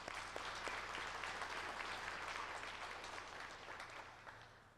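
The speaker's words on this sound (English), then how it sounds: "have a little round of applause for her as well." Audience applause rings out at a 1998 human rights conference in New York, a dense, steady patter of many hands clapping that tapers slightly toward the end, heard from a distance with no voices over it.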